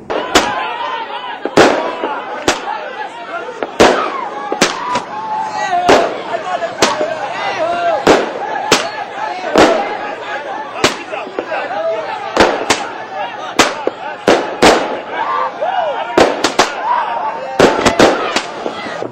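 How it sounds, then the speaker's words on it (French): Fireworks burst over a New Year's Eve midnight celebration, sharp loud bangs and crackles repeating irregularly every second or so for the whole span, over a steady crowd murmur with voices talking underneath. "aux 12 coups de la pendule chez les jeunes, les feux d'artifice"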